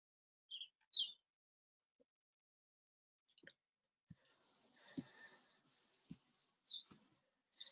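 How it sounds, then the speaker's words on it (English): Birds singing and chirruping outdoors after rain, a few short chirps at first, then a continuous run of bright, fairly distant trilling calls with no talking. "the birds are still singing, Simon, absolutely."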